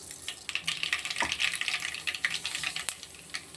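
Mustard seeds crackle in hot oil for a fish curry tempering: quiet, irregular sharp pops and spits scattered over a soft sizzle, close by and without speech.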